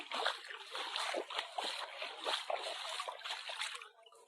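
Water splashes and sloshes in quick, irregular bursts, close by, fading slightly at the end.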